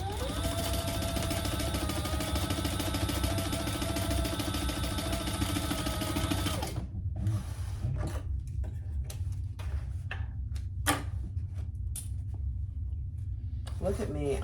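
Sewing machine stitching through cotton fabric at a stitch length of 3, a steady mechanical whirring and ticking for about the first seven seconds, then sparse clicks and faint handling noises.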